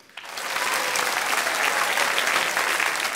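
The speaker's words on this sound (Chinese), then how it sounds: "我们掌声欢迎一下。" A studio audience at a Chinese TV dating show breaks into applause, starting suddenly and holding as a dense, loud wash of clapping close around.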